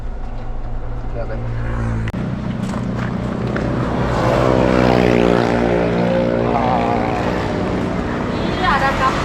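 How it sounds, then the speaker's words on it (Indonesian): A green boat passes close by, its engine drone rising and swelling in the middle before easing slightly, a continuous loud mechanical hum over water with people talking nearby. "Iya, ada kapal. Kapal hijau."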